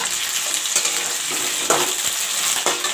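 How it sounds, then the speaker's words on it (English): Potatoes sizzle and crackle steadily in hot oil, with occasional stirring scrapes in the pan, close up. "Now I am frying the potatoes."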